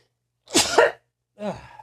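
A person sneezes twice at close range, a loud explosive burst followed by a softer second one, with silence around them.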